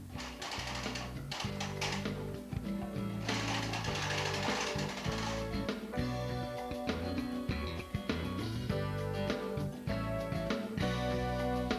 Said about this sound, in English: You'll need to push your carriage slowly for the first row.